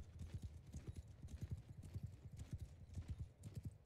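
Rapid, rhythmic hoofbeats of a galloping horse in the video game Bannerlord during an online PvP battle, a steady close drumming clatter with a faint whinny.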